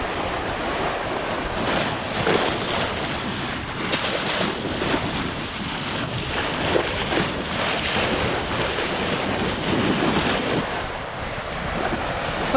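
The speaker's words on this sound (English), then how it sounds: "Big rolling waves coming in." Big rolling ocean waves wash against a Hallberg-Rassy 54 sailing yacht under way off the Bahamas, a continuous rushing swash mixed with heavy wind noise on the microphone, loud and close, with no voices.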